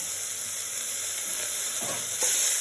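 Broad beans with coconut stir-fried in a pan, a steady close sizzle with light stirring scrapes, loud and continuous throughout.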